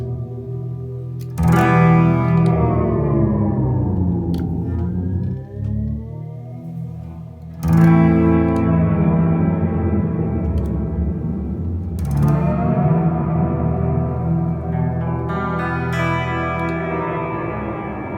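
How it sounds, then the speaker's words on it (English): Sustained electric guitar chords through a BOSS MS-3 multi-effects unit, drenched in reverb and modulation, swelling and ringing out with a washy, echoing tail, played alone. "Let me add a little reverb here."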